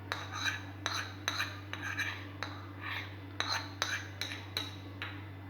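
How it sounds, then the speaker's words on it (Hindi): A spoon stirring yogurt and lemon juice in a bowl, clinking against the sides in a steady repeated rhythm of close scraping taps over a low constant hum. "इसको पहले हम मिक्स करते हैं दही को और फिर हमने डालना है इसमें लेमन"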